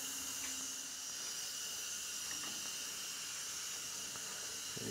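Steam hisses steadily from a pot of beef steak curry cooking on low gas, a soft continuous rushing sound with faint clinks, no voices.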